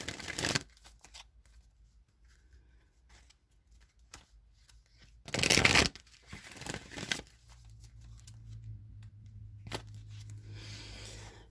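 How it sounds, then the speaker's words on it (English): A deck of Wisdom of the Oracle tarot cards being shuffled by hand in a quiet room, with several distinct riffling bursts and a loud flurry in the middle before softer handling noise. "So let me just give these some shuffles."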